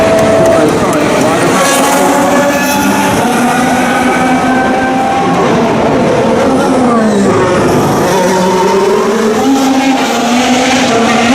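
Formula 1 race cars at the 2016 Monaco Grand Prix scream past on the street circuit, loud and continuous, with engine pitch rising and falling as cars accelerate and pass close by.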